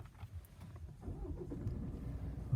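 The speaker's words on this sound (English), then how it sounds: "There we go, engine running." A Range Rover Evoque, fitted with a tracker and immobiliser, starts up: a quiet idle hum, then the engine catches about midway and settles into a steadier, louder running rumble.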